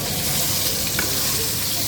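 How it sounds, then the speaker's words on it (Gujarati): Patra sizzling in a hot tempering, a dense, continuous hiss of frying that stays close and steady throughout. "તો અહીંયા ધમધમાવીને વઘાર કરી નાખ્યો છે"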